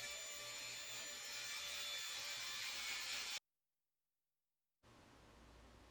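A saw rips 7/8 inch mahogany boards into 2.5 inch wide strips, a steady, loud high-pitched whine with grinding wood noise that cuts out abruptly, then resumes after a short silence.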